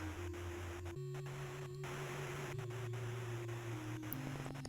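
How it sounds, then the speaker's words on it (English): White noise static from a horror game plays as a continuous, even hiss. Low droning tones shift slightly underneath, with no voices. "White noise."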